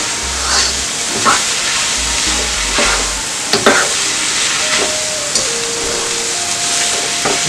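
Minced vegetables and herbs frying in a pan for a vegan dodo gizzard alternative, a loud steady sizzle and hiss with a utensil scraping and stirring through it, close up and without talk.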